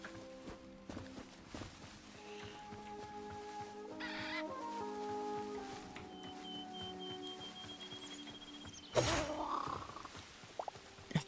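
In the video game Hytale, a bird clucks and gives warbling calls through a quiet game soundscape. Tonal notes and footstep-like taps run throughout, with a louder burst of noise near the end.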